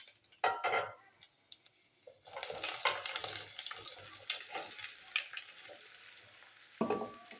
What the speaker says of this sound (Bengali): কাঁকরোলগুলো আমি একটু ভাজবো